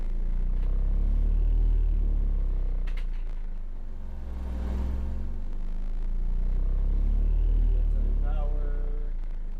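A Black Brick Audio HeavyHitter 15 subwoofer plays a 20 Hz tone, a loud, continuous deep rumble that swells and eases over several seconds while a voice talks over it.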